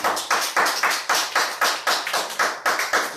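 Congregation in a church clapping together in a steady rhythmic beat, many hands striking in regular bursts, loud and close with no talk.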